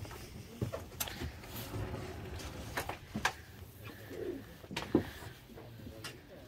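Pigeons cooing inside a loft in Belgium, soft repeated throaty coos from several birds close by, mixed with scattered clicks and wing or foot knocks against a low room hum.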